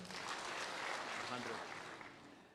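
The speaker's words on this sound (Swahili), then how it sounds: "Mpigeni makofi" Applause from a crowd gathered at a church event for the Kenyan Senate majority leader Aaron Cheruiyot, a steady wash of clapping lasting a couple of seconds at moderate level before tapering slightly.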